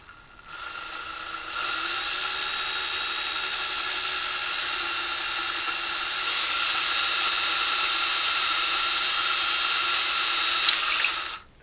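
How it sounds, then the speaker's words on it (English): Small drill enlarging a hole in a 3D-printed part, a steady close whine with a constant pitch that runs for about ten seconds before stopping. "let's see if we can get that hole a little bit bigger."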